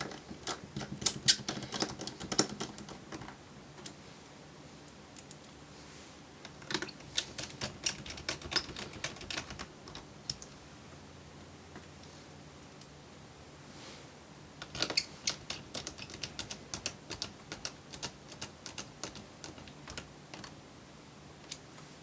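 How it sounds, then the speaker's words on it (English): Small hinge screws are driven back into a Dell Inspiron 15 3501 laptop with a screwdriver, giving clusters of fine ticking and clicking close up in quiet bursts, separated by pauses, with no talking. "refit the remaining hinge screws."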